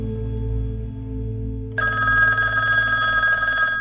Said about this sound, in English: arrived home to find the telephone ringing